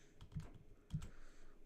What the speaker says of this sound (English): I'm just typing out the list.